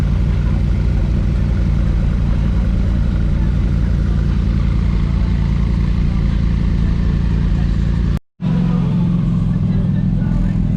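A Porsche sports car at a Malibu cars-and-coffee meet pulls away with a loud, close, steady engine rumble that holds throughout, broken by a brief dropout near the end, with possible faint crowd sound around it.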